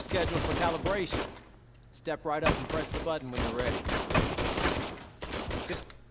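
Rapid bursts of gunfire in the video game RoboCop: Rogue City crackle in quick volleys, interleaved with loud impacts and a voice talking in between the shots.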